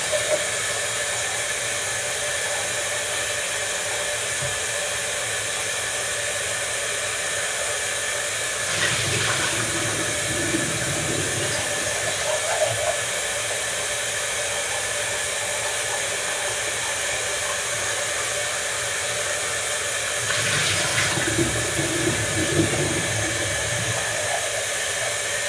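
Water runs steadily from a tap in a continuous broadband hiss, with louder splashing bursts around the middle and near the end.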